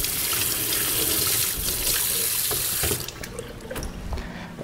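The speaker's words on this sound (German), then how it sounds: "Und wieder unter fließendem Wasser ausspülen." Tap water runs steadily into a sink as prawns are rinsed, a loud continuous splashing rush that cuts off about three seconds in, followed by drips and light handling clatter.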